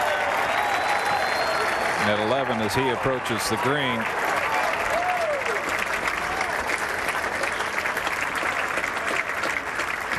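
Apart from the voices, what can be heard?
golf crowd applauding Phil Mickelson approaching the green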